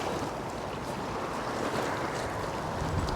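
Strong storm wind of 45 mph plus roaring over Poole Harbour, a loud, continuous broadband rush with gusty swells and water noise, no voices.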